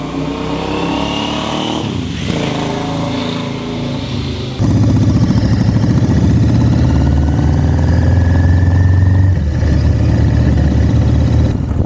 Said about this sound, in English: It's loud enough that you hear the bike's response to the throttle.